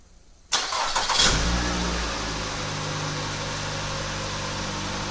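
After a brief quiet moment, a Nissan Rogue engine cranks and catches via remote start, then settles into a steady idle close by.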